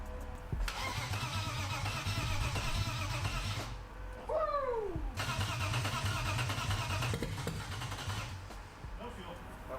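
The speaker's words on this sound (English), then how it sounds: "We're gonna go ahead and throw some fresh oil in it and give her a crank." A junkyard BMW engine cranks on the starter, fresh oil in and no fuel, in two bursts of steady mechanical churning separated by a short pause, close and loud.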